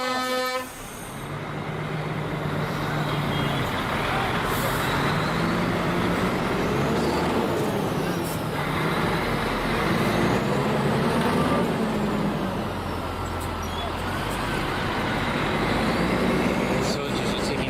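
Dense road traffic of trucks and buses rumbles steadily at a roadblock near a demonstration, with a sustained engine drone, occasional horn toots and voices mixed in.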